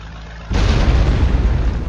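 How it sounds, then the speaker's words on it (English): Explosions in the video game Delta Force Black Hawk Down: a sudden loud blast cuts in and becomes a sustained, rumbling roar of detonations, heavy in the low end, after a quieter ambient bed. "We've got explosions!"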